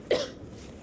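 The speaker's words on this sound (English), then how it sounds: "that cough looks pretty bad" A person gives a single short, sharp cough close by, with nothing else heard around it.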